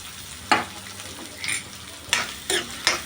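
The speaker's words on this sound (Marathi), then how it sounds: "तेल गरम झालेलं आहे आता आपण कढीपत्ता टाकू त्यासोबतच कांदा टाकून घेऊ" Onion and curry leaves dropped into hot oil, giving several short, loud sizzling bursts as ingredients hit the pan, with quieter frying hiss between them.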